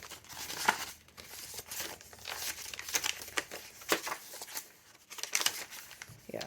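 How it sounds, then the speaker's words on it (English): A plastic bag being cut and torn open up close, with continuous crinkling and rustling broken by sharp snips and tearing bursts, busy and irregular throughout. "Oh, I need to cut that bag open."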